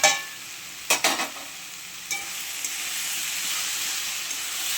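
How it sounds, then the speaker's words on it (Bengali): Onion paste and spices stir-fried in a pan for a soybean curry, giving a steady bright sizzle. A few louder scraping stirs come near the start, and the frying hiss carries on alone. "এটা দিয়ে ভালো করে কষিয়ে নেব।"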